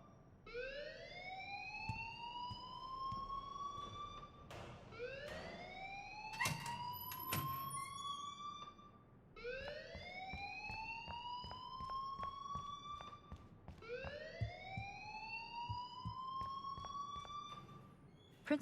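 A school fire alarm in the Life is Strange video game wails in repeated rising whoops, four long sweeps with short gaps, loud and steady, with faint background noise and no talk.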